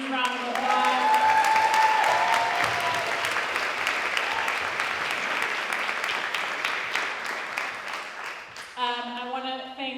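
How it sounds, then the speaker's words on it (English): Sustained audience applause at a community rapid response forum on deportation, steady dense clapping filling nearly the whole stretch before fading, then a voice begins speaking at the close. "let's give her a huge round of applause"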